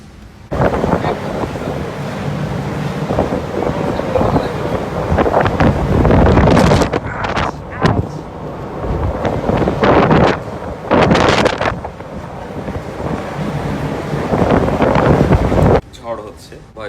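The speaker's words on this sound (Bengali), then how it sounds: "প্রচণ্ড বাতাস আর বৃষ্টি" A strong storm wind roars at sea, with waves and rushing water around a rolling ship. The loud, continuous gusting swells and surges, and it buffets the microphone hard in several bursts.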